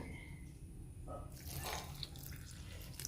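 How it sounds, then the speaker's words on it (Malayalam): Water is poured from a tap or jug into a bread filling mixture in a kitchen, a short soft splashing trickle that swells midway and keeps running to the end. "വെള്ളം ഒഴിച്ച് കൊടുക്കുന്നുണ്ട്."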